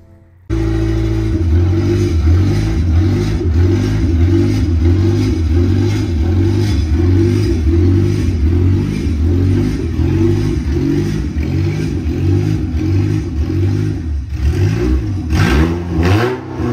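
A Honda CR-V engine fires up and revs hard after a quiet start, a loud, throbbing mechanical drone with rhythmic pulsing that surges and dips near the end.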